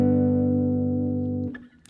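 A single guitar chord from a beginner tutorial for mgk's cliché is strummed once and left ringing, sustaining steadily for about a second and a half before being muted, followed by faint handling noise.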